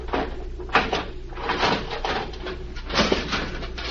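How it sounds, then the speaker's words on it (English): A radio drama effect of a steel cabinet door being pried open with a jimmy, close metallic scraping and creaking strains in irregular bursts, with no voices. "Now, if I can get the jimmy behind the steel door..."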